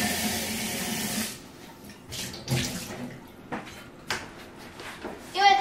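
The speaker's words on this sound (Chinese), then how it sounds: "然后锅子的部分，我通常会稍微冲水一下" A pot rinsed under running tap water at a kitchen sink, a loud continuous splash that stops, followed by scattered clanks and short bursts of water as the pot is handled nearby.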